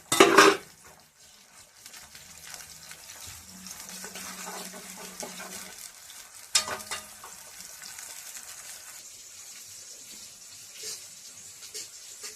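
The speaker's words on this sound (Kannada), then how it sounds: "ನಾನು ಒಲೆ ಮೇಲೆ ಕಡಾಯಿದಾಗ ಇಲ್ಲಿ ಅದಕ್ಕೆ ಒಂದು ಸ್ವಲ್ಪ ಒಗ್ಗರಣೆ ಕೊಡ್ಲತ್ತೀನಿ." A tempering of tomato, coriander and onion dropped into a kadai on the stove, starting with a loud sizzling burst, then settling into a soft, steady frying hiss.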